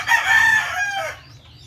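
A single rooster crows once, close and loud, the call rising and then trailing off into quiet farmyard background.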